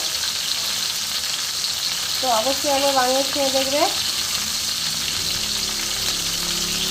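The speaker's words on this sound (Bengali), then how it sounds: "বন্ধুরা আমার মাছের মাথাগুলো ভাজা হয়ে গেছে" Rohu fish heads fry in oil with a steady, close hiss and sizzle while a person talks over it briefly.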